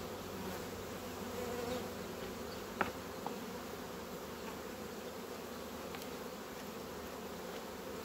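Honeybees crawl over a beehive frame, making a soft, continuous droning buzz, with a faint tap or click near the middle.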